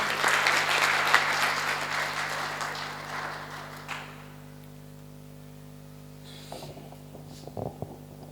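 An audience at a Hindi poetry gathering applauds a poet being invited to the stage, a broad burst of clapping that tapers off after about four seconds into a quiet hall with faint hum and a few small knocks.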